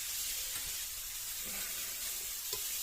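Carrots and onions fry separately in a pan, giving a steady broadband sizzle with small crackles and stirring clatter throughout, close and even.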